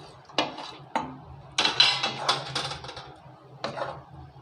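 Paneer added to gravy in a pan for a dhaba-style dahi paneer masala, heard as sharp close clinks and scrapes of a utensil against the pan, several separate knocks followed by short bursts of stirring.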